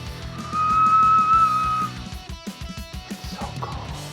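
A single sustained high whistle tone rings out for over a second, followed by a clattering, rattling mechanical noise.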